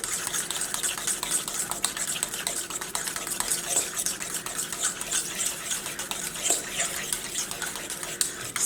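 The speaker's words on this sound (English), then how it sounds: "You just want to whisk that together as well" Pumpkin puree being whisked into oatmeal muffin batter in a bowl, a steady, continuous scraping and swishing with faint clinks of the whisk against the bowl, close and moderately loud with no talking.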